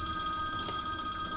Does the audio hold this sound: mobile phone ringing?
yes